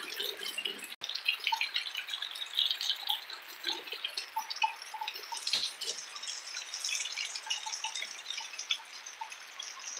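During a heavy rainstorm, water drips and patters steadily, close by and fairly faint, with one sharp knock near the start.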